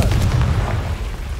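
A fiery blasting spell explodes in Hogwarts Legacy, a short deep boom with a rumbling low tail that fades over about a second.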